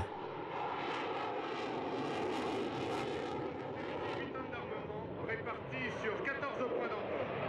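A loud, steady roar of a Dassault Rafale jet fighter making a close demonstration pass at the Paris Air Show, broad and rumbling throughout, with a voice talking faintly underneath.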